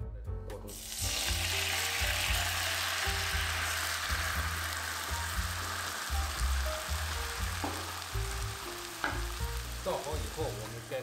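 Buns browning in an oiled flat pan burst into a loud, steady sizzle as a cornstarch slurry is poured in. The hiss stays thick and continuous for the rest of the stretch over quiet background music.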